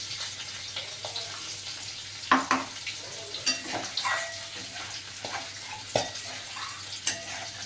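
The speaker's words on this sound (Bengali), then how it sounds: "একটু মশলা ধোয়া জল দিয়ে দিচ্ছি অল্প করে" Water used to rinse out a spice bowl is poured a little at a time into prawn masala frying in a pan, giving a steady sizzle with sharp splashy bursts as the liquid hits the hot oil, close and fairly loud with no talking.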